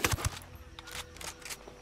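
A few sharp gunshot cracks from the video game Ghost Recon burst at the start, followed by a faint rattle of scattered shots and game noise.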